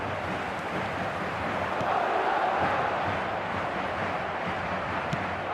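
Simulated stadium crowd in the eFootball 2026 football video game, a dense, steady roar of many voices at moderate level, continuous and without distinct cheers.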